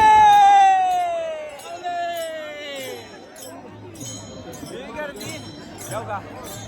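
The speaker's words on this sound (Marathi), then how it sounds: "आणि हे बघा गर्दी" A dense crowd of pilgrims presses around Sant Dnyaneshwar Maharaj's palkhi procession on the Lonand to Taradgaon route. Babbling voices and clinking bells fill the scene, with people talking close by and a descending whistle-like tone at the start.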